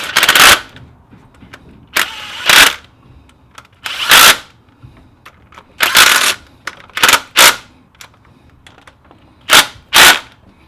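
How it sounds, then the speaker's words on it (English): An impact wrench rattles in about ten loud, short bursts, some paired, tightening nuts and bolts on a Toyota LandCruiser 1HZ/1HD-T diesel engine during a timing belt change. Quiet gaps separate the bursts. "now we'll just quickly nick them up with the impact"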